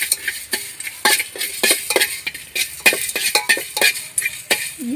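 Fenugreek seeds and spices frying in a pan for a fish curry, with a crackling sizzle broken by repeated stirring scrapes and utensil clinks in an irregular rhythm, close up with no talking.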